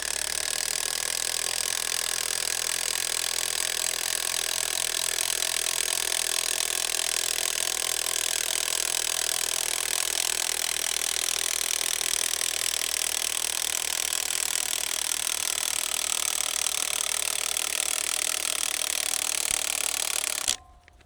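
An AGM scissor jack is cranked up under the frame of a Can-Am X3, a steady loud whirring, grinding drive lasting about twenty seconds before it stops abruptly.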